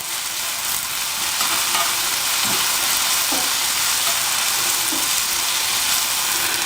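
Onions and potatoes frying in a pan, a loud, steady broadband sizzle that fills the whole clip, with a few faint scrapes of stirring underneath.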